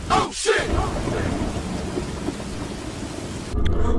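Heavy rain pours steadily over a village house with thunder rumbling low and loud underneath, a continuous close downpour that swells again near the end.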